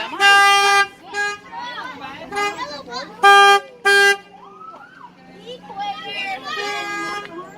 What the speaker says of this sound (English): You want to go up in that one and honk the horn?